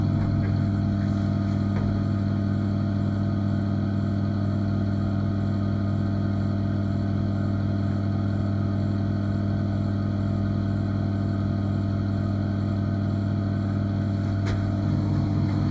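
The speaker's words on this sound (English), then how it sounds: "Even though the fan is connected to 3-meter ductwork, it still pulls almost 20 liters a second" An extract fan connected to 3-metre ductwork runs continuously, giving a steady, close, even hum with a buzzing tone and no change in level.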